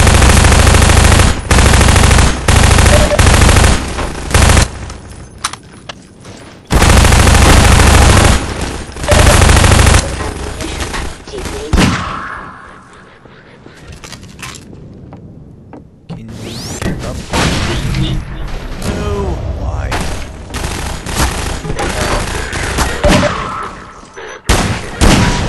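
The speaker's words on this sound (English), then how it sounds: "Oh, he's firing at me." Heavy enemy gunfire in Half-Life 2: Lost Coast, loud, close bursts of automatic fire and shots that come in long stretches, break off into a quieter lull with mechanical sounds, then rattle on again.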